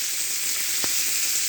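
Fresh parshe fish coated in salt, turmeric and dried chili powder fry in plenty of oil, producing a steady, even sizzling hiss with one soft knock partway through.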